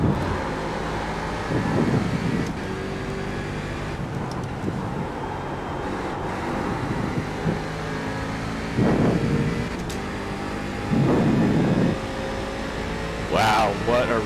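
Race cars racing heard from inside, engines droning and surging in several bursts of acceleration over wind and road noise, with voices talking at times.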